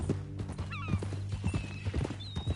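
A horse whinnies and its hooves clip-clop in Red Dead Redemption 2, a short close burst of neighing over steady hoofbeats with a low engine-like drone beneath.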